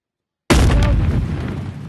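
A revolver gunshot in the VR game Animal Company during a round of Russian roulette: after half a second of silence comes one sudden loud blast that decays slowly into a long rumbling tail.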